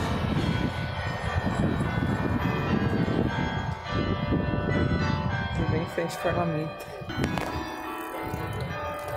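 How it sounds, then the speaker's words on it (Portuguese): A bell rings from a museum tower near the Parliament in Victoria, B.C., sustained ringing tones that linger and overlap over outdoor city noise, while a person speaks nearby. "toca esse sino"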